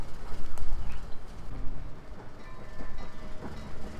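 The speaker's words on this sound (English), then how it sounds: "Oh, gotta wait for the train to go by. Train's crossing." A train rolls past a crossing in the video game Sly 2, a loud, steady rumble with rhythmic clatter from the wheels that carries through without any talk.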